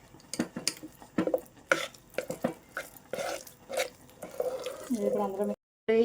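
Moong dal and sago payasam being stirred in a pot, with scattered scraping and clinking knocks of a spoon against the vessel and a few soft wet sounds, close and moderately loud, no one speaking.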